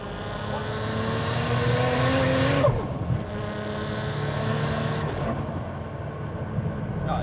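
A 500hp Toyota JZX100 takes a corner in third gear, tyres squealing in rising tonal streaks over a loud engine drone that dips and then carries on, heard close with no voices.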